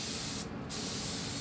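A spray gun hisses out a steady, loud, close-up jet of pearl paint for a light even coat, with a brief break in the spray partway through before it resumes.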